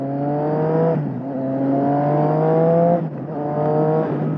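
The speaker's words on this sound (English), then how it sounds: "this might be one of the nicest sounding bikes I have test ridden so far" A Triumph Street Triple 675 motorcycle exhaust rumbles steadily while riding, a close, continuous engine tone that rises in pitch as the bike accelerates, dips briefly at a gear change near the end, then climbs again.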